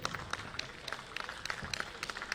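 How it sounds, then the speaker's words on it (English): A modest audience at a medical panel discussion claps in a faint, scattered patter, with individual hand claps standing out irregularly against a quiet room. "Yeah, more clapping needed."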